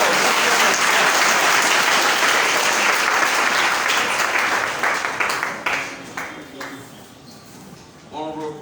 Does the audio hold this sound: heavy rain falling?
no